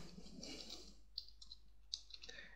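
Soft clicking keystrokes on a computer keyboard as a command is typed, a few faint isolated taps spaced irregularly against a quiet room background.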